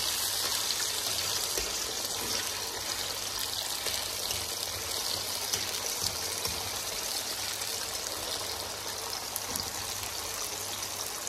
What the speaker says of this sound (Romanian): Ca să se scurgă bine de apă, unde l-a spălat.